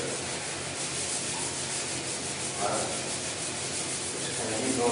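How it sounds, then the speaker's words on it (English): Steady back-and-forth hand sanding of car paint scratches, a continuous close scratchy hiss of sandpaper on a hard surface with no voices. "So we get rid of the scratches, I just want to keep sanding them."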